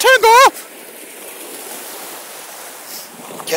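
Ocean waves wash steadily at a beach while a dog is urged to swim, a soft continuous surf hiss following a short burst of loud, high-pitched vocal sound at the start.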